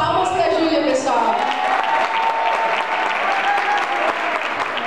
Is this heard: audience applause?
yes